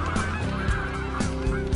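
A flock of geese honks loudly and continuously, many overlapping calls close by in a dense, raucous chorus.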